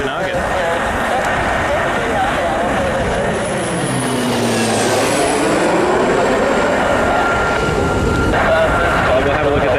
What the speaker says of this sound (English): Beach 1900 about to fly overhead.